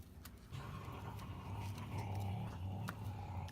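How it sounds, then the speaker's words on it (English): Puppies scuffle and growl nearby, low rumbling snarls with a few sharp yips and bumps, faint and continuous across a few seconds without any talk. "Oh, puppies are fighting."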